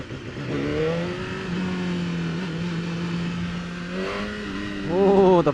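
A BMW motorcycle accelerates hard on the Mission Raceway track, its engine revving up through rising pitch sweeps with quick shifts, loud and close, growing louder at the end.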